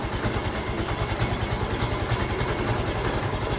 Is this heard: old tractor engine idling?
yes